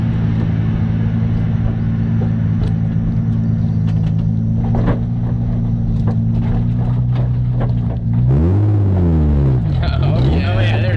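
A Nissan 350Z drift car with a welded differential drones along at steady low revs, a loud close engine rumble under talk from inside the car, then the engine note swoops up and down as it revs near the end.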